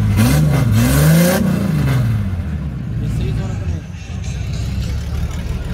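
A Ford car engine revs up loudly, rising and falling in pitch, then settles into a rumbling idle; people talk over it.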